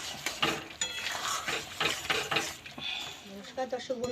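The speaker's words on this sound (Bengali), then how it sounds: "এবার মাছগুলোকে একটু ভালো করে সেটা মিশিয়ে নেব।" Fried fish is stirred in a pan for a Bengali tomato fish curry, with a spoon scraping and clinking against the metal over a soft sizzle, close and fairly quiet.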